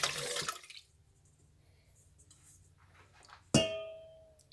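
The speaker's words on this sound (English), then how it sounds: "We're gonna go ahead and put our peaches in our pot." Canned peaches poured from the can into a cooking pot, a short wet glugging splash at the start, a quiet pause, then a sharp clank and second pour that fades out.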